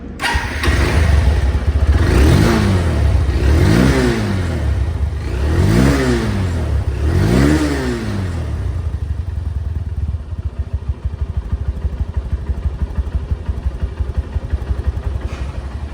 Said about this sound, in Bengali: তো বাইকটির সাউন্ড কোয়ালিটি শুনুন সাউন্ড কোয়ালিটি শুনলে বুঝতে পারবেন